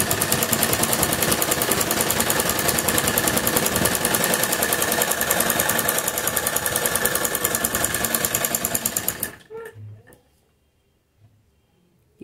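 A sewing machine stitches a palazzo seam with a fast, even mechanical chatter that runs steadily for about nine seconds, then stops abruptly, leaving near silence.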